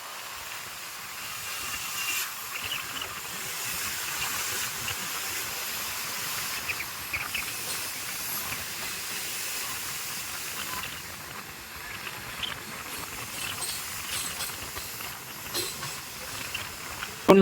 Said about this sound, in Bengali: ফাইনালি আমরা ফারাক্কা ব্যারেজের উপর দিয়ে যাচ্ছি